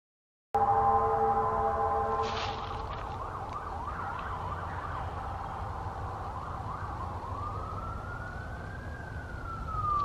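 A wailing siren rises and falls over a steady low rumble, then slides into a long sweeping tone, echoing through woods and fairly distant throughout.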